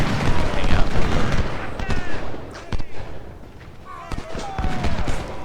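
Artillery and musket fire from the Ultimate General: Civil War battle game, with repeated sharp booms and crackling volleys overlapping in dense bursts at a fairly loud level.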